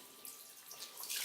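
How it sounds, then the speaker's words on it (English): Tap water running briefly to rinse soapy laundry, a faint, soft splashing stream that grows slightly louder at the end. "rinse the clothes with clean water"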